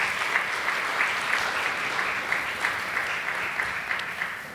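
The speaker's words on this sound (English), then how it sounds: "give a warm round of applause to our colleagues, for everyone who presented today" An audience claps steadily through a faculty research day session, a dense continuous wash of applause at even loudness with no voices above it.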